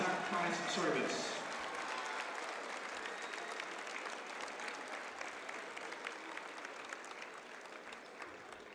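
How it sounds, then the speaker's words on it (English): Large arena crowd at a college basketball game between Saint Francis and Bellarmine applauds first responders and military personnel, a sustained dense wash of clapping with some cheering that swells at the start, then holds steady. "please give these individuals a round of applause to show our appreciation for their sacrifice and service"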